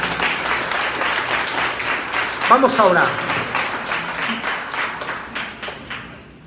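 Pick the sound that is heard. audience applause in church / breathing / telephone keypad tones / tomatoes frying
audience applause in church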